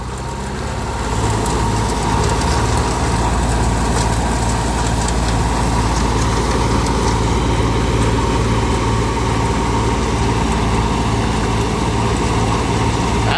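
A thresher engine is revved to full throttle, a loud, close, continuous low drone that rises in the first second and then holds steady without any talk.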